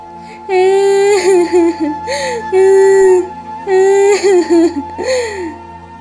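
A cartoon bird cries in a high, wavering voice, with repeated sobbing wails and whimpers in two long bursts separated by brief pauses. The crying is loud and close, and it is clearly a voice acting out the sound.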